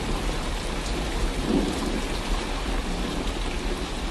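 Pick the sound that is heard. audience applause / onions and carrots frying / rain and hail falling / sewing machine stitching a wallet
rain and hail falling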